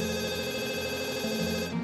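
A telephone rings with an incoming call, a loud, continuous electronic ringing tone that carries steadily and then cuts off abruptly at the end.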